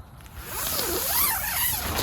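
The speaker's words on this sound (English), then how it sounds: "Zipper, everything works just fine." A tent zipper on a Hyke and Byke Yosemite 2P two-person tent, drawn in one continuous sweeping pull lasting over a second, close and moderately quiet with no voices.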